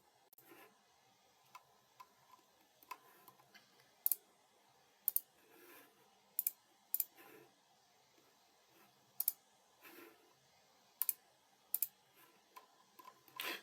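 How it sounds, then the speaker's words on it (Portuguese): Sharp, isolated mouse clicks while operating ERP business software, coming singly and in quick pairs at irregular intervals, close and crisp against a very quiet background. "Vamos clicar em confirmar."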